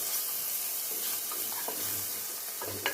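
Chopped onion with ginger-garlic-chili paste sizzles in a pan for misal, a steady close frying hiss broken by short stirring scrapes.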